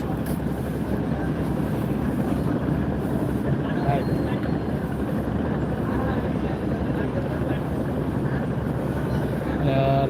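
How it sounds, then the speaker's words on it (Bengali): A large passenger launch ship pulling away from Barishal: a steady heavy engine rumble and broadband drone fills the whole stretch without pause, loud and close, with voices talking throughout. "চলে যাচ্ছে বিশাল লঞ্চ"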